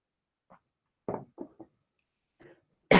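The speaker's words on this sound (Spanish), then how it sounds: "Perdonad que me da un poquito de tos." A woman gives a few short, dry coughs in quick clusters, close and fairly quiet, during a Spanish-language cybersecurity webinar, ending with a louder burst.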